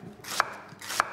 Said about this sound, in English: going to slice them as thinly as possible across the fennel.